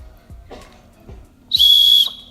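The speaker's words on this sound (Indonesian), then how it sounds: "kita bisa pakai peluit." A single sharp, shrill whistle blast rings out for about half a second, loud and close, after a few soft knocks and faint background sounds.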